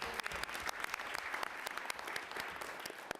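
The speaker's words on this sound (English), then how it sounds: "Round of applause for our young people." Audience applause for young people: continuous clapping from a modest crowd, individual sharp claps standing out against a steady patter, fairly quiet and distant throughout.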